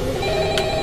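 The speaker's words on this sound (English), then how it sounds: "Pick up the phone." A telephone rings in the video game Five Nights at Freddy's, a short steady electronic ringing tone heard alone at moderate volume.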